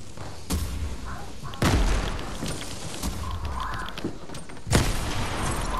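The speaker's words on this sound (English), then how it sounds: "Bombs, more bombs." Bomb explosions in the video game Fortnite, several booming thuds at irregular intervals, a few sharp and loud, over a continuous rumbling backdrop of game noise.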